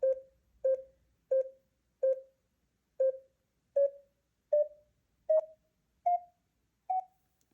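Sonoplanet game sonifying a drawn rectangle as a series of about ten short, evenly spaced electronic beeps, their pitch creeping slowly upward, faint and alone.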